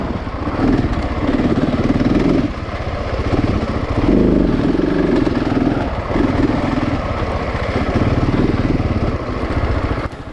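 A KTM 701 Enduro motorcycle on bald TKC 80 tires rides a rough trail, its single-cylinder engine close and loud, revving and easing off in uneven surges with clattering over the terrain.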